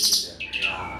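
Short burst of oriental magpie robin (murai batu) song at a songbird training school in Tangerang: bright high chirps and a rising whistled phrase, fairly close and clear, with faint voices in the background.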